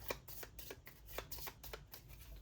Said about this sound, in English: as per standard deck building, we're going to shuffle these up